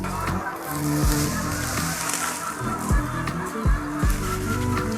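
Layer hens on a poultry farm clucking and honking excitedly at feeding time, a loud, dense flock chorus with repeated calls overlapping throughout.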